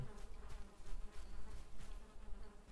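Bees buzz in the Viking survival video game Valheim, a close, continuous droning hum that swells and fades in uneven pulses, with no talking over it.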